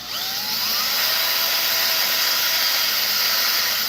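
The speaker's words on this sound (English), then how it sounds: "I'm gonna drill this guy out first," A high-pitched power drill whines steadily while drilling out a piece for hook hangers, loud and close with a rising pitch at the start, and no talk.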